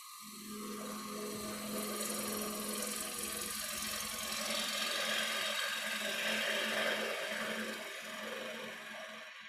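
A wood lathe spins steadily while a bowl is being turned, giving a continuous mechanical hum with a bright, hissing, tool-like scrape on top that holds near-constant for the whole stretch, with no talking.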